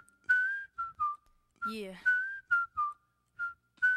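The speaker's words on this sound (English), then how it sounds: "Let's make them whistle, y'all." A crowd at a college pageant whistles in a string of short, loud, piercing bursts, each rising or holding a high pitch, with one warbling mixed whistle in the middle and brief gaps of quiet between calls.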